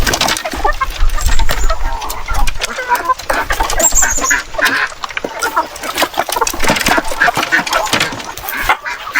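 Loud, close calls from a gamecock rooster and chickens with clucking over a busy farmyard, with people talking nearby.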